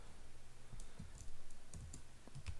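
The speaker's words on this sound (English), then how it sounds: "So in the first row I will type" Light, scattered keystrokes on a computer keyboard while data is entered into a spreadsheet, faint clicks over a humming background with no speech.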